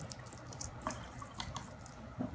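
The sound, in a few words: rinsing a paintbrush in water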